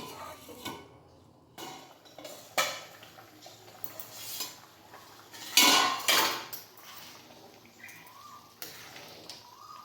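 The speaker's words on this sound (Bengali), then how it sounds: "এবারে সেদ্ধ হওয়ার জন্য আমি একটু চাপা দিয়ে দিচ্ছি" A metal lid lands on a cooking pot of vegetable khichuri with sharp clanks and rattles, among scattered utensil clinks and light kitchen sounds.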